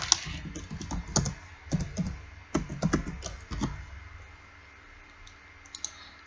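Someone types messages on a computer keyboard in quick, uneven bursts of close key clicks that thin out and grow quieter toward the end.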